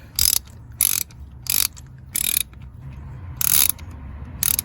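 A hand ratchet tightens a spark plug on a Ford Expedition with the 5.4 3V Triton engine. It makes about six short, crisp clicking bursts separated by brief pauses, close to the mic over a low background hum.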